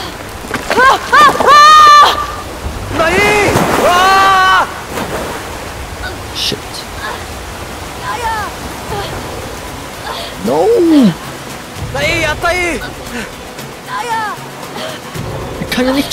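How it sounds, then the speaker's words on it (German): A rushing waterfall in the video game Brothers: A Tale of Two Sons makes a steady, broad wash of water noise. It runs continuously beneath frequent excited talking. "Und da kommt ein fucking Wasserfall."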